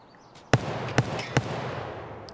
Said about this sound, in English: And now he started shooting back.